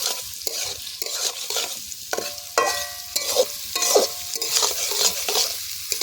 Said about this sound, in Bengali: পেঁয়াজ আর গাজর দিয়ে দেবো। এবার ভালো করে নেড়ে নিই